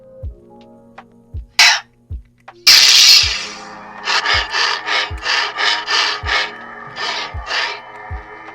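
Budget AliExpress lightsaber running a sound font: an ignition burst into a steady hum, then a string of rapid swing or clash whooshes, with low rhythmic pulses beneath, loud and close.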